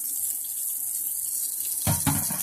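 Tap water from a Flint home faucet streams into a clear cup, a steady hiss that swells into a fuller, nearby splash as the pour hits the cup near the end.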